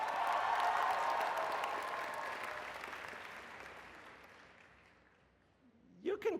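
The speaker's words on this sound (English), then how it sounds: "You can clap for them even if you're not in those dormitories, it's okay." Audience applause at a university convocation, starting as loud, dense clapping that gradually thins and fades over several seconds, with a voice beginning to speak at the end.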